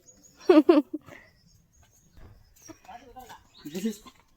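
A goat bleats twice in quick succession, loud and close, in an outdoor yard with fruit trees, followed by quieter scattered sounds and people talking.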